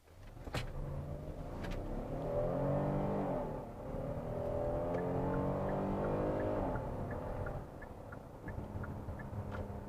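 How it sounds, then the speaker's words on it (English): A 2021 Kia Telluride EX FWD SUV in sport mode pulls away hard from a stop sign, its engine note rising steadily and loud for several seconds with no talk over it. "we're going to go ahead and press on the accelerator hard"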